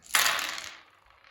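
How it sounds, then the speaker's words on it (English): Dice rattling and tumbling across a table during a Warhammer 40k tabletop game, a loud clattering burst that fades out over about a second, heard alone without speech. "amazing dice roll still kicking in here"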